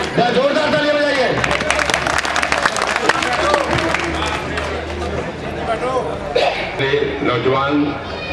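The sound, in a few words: audience applause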